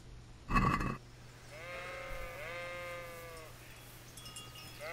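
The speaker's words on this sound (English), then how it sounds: "Sheep" A single sheep in the medieval game Kingdom Come: Deliverance lets out one wavering, drawn-out bleat at moderate distance, following a short thump, over a faint steady background hum.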